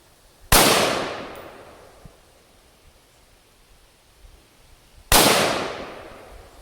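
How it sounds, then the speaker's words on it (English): Two sharp rifle shots ring out about four and a half seconds apart outdoors, each one loud and followed by a long fading echo. "dial it in and shoot some tannerite"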